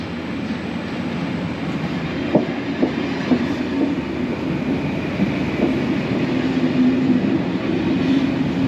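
A push-pull passenger train rumbles steadily on the rails, with a few sharp clicks and knocks over the low drone and no talking.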